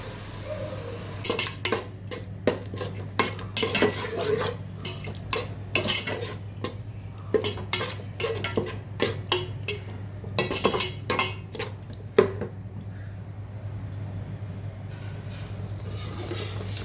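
Yogurt being stirred into a pot of white Kongu-style mutton biryani, with repeated metal spoon scrapes and clanks against the vessel in an irregular rhythm over a steady low hum. The strokes are close and fairly loud.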